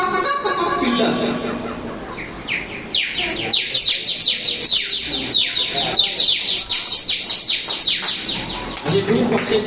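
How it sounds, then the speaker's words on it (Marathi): Birds chirp and tweet busily in a morning dawn chorus, with a rooster heard among them, dense overlapping high calls rising after a short lull, fairly close and continuous. "असे खूप पक्ष्यांचे प्राण्यांचे आवाज येतात."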